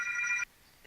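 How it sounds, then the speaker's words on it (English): A telephone rings once, a bright electronic bell tone lasting about half a second, then stops, leaving faint room hiss; moderately quiet and alone. "Apologize for the phone ringing."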